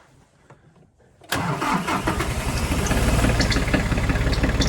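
After a quiet moment, a tractor engine cranks and catches on a chilly morning, then settles into a loud, close, rough idle that continues steadily.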